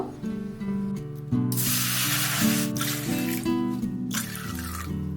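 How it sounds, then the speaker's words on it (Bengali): Water, three bowlfuls, is poured into a kadai, two separate bursts of hissing splashes close by, with a steady low tonal hum running beneath. "সেই বাটির মাপ করে আমি এখানে তিন বাটি জল দিয়ে দেব"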